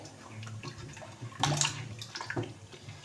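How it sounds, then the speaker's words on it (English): Arrow root yams being washed by hand in a basin of water, with splashing and sloshing that swells into a louder burst midway, close by and without talk. "I want to wash them and boil."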